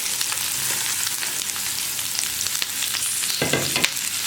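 Onions with ground garam masala sautéing in a pan for chicken kurma: a dense, even hiss of frying close by, with a few louder stirring scrapes near the end and no speech.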